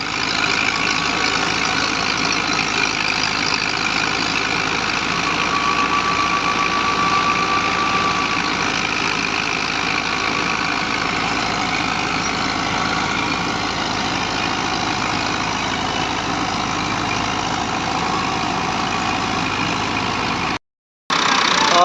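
A Fiat 640 tractor-driven thresher runs continuously with a loud, steady mechanical rumble and rattling drone, nearby and unbroken except for a brief cut near the end.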